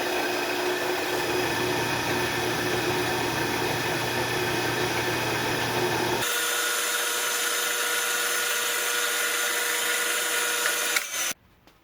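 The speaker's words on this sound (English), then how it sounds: "Now I need to drill out a hole in the side for the set screw." A power drill bores a side hole in a knob for a set screw, a loud steady whine that shifts pitch midway as the bit bites and then cuts off abruptly.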